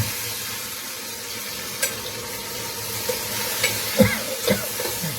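Aloo bhindi, potato and okra, being stirred in a pan after pressure cooking, with a steady low sizzle, a few sharp spoon scrapes and knocks clustered near the end, and no voices.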